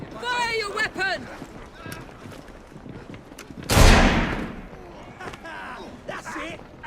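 Gunfire in the video game Assassin's Creed Syndicate, a single loud sharp shot bursting out midway, surrounded by shouted character dialogue and some hoof-like clatter.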